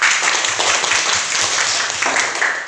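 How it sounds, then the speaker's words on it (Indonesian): Children doing a group spirit clap in a classroom, loud and close, with fast, energetic clapping in rhythm that runs the whole time without a pause. "tepuk semangat untuk kita semuanya"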